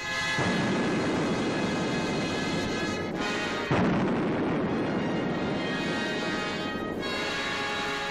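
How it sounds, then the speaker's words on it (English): A continuous, heavy explosion rumble from an old film trailer showing a uranium field blowing up, loud and dense throughout, with a couple of fresh blasts that briefly swell the roar. "See the world's biggest uranium field explode before your very eyes."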